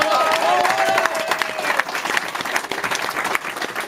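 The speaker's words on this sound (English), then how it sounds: "I want a massive round of applause for him" Wedding guests break into dense, loud applause for the best man, a continuous roar of many hands with crowd noise and a few voices mixed in, easing slightly toward the end.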